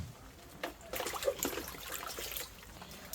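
Plant root ball dipped into water, quiet trickling and dribbling splashes in short bursts, close and faint.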